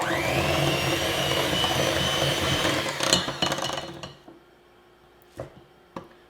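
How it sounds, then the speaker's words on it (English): An electric mixer whirs steadily through banana bread batter with sour cream, then stops, leaving a few light knocks and clinks of the bowl and beaters. "Now let's mix this together."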